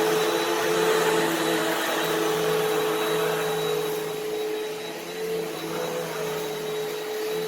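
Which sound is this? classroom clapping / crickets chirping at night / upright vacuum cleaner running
upright vacuum cleaner running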